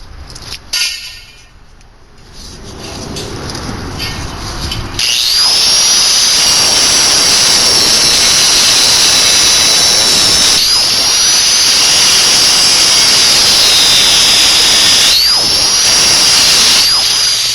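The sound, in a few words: grinding metal off a homemade coyote trap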